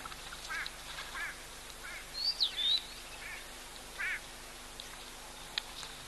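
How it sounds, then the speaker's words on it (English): A bird gives several short quacking calls at a distance, spaced irregularly over quiet outdoor background, with one brief higher whistle among them. "There's also some other bird making a noise going quack, quack, quack"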